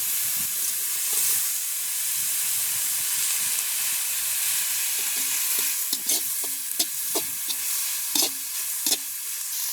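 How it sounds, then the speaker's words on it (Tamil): Onions and chillies sautéing in a pan in a village kitchen, a loud steady sizzle with scraping stirs of a spoon growing more frequent toward the end, close by. "அதோட சேர்த்து வெங்காயம் மிளகாயம் சேர்த்து வதக்குவோம்"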